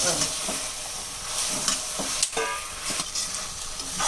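Mushrooms for biryani sizzle in a hot pan while a utensil scrapes and stirs in repeated strokes, close and fairly loud.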